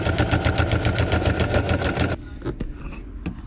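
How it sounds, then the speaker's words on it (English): A sewing machine stitches through a bulky blanket in a fast, even mechanical chatter for about two seconds, then stops abruptly, followed by a few faint clicks and handling sounds. "I can get this whole thing through the sewing machine"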